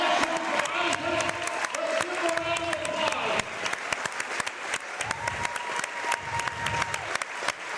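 Basketball fans from both Ranger and Aitkin applauding in a gym after a high school boys' player reaches 1,000 career points, a steady crowd clapping throughout, with a voice speaking over it and crowd noise underneath.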